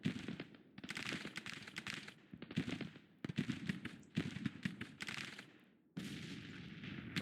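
Ragged musket volleys crackle across a Civil War battlefield in the strategy game Grand Tactician during the fight for New Orleans, with dense overlapping shots in repeated bursts, loud and continuous.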